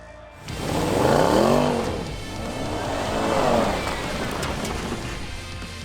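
A 2019 Range Rover SV Autobiography Dynamic climbs through the Welsh hills off-road, its engine swelling in two long revving surges, loud and close, with steady drivetrain rumble underneath and no talking.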